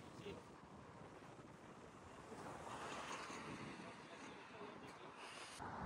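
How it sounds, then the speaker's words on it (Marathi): A speed boat runs across open water on a cold, windy day by a lake or bay. Its engine rush is lost in a steady broadband roar of wind and lapping surf that swells louder partway through and holds there. "पाण्यामधून जाणारी स्पीड बोट"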